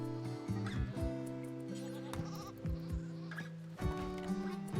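Goats bleat in the colony-building video game Rimworld, several wavering calls overlapping and repeating at close range over a quiet game background, with no talking.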